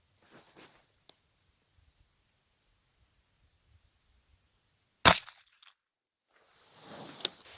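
A single sharp gunshot from a .22 LR shot shell round fired outdoors, loud and close, followed by quiet with faint clicks and a rising hiss of wind.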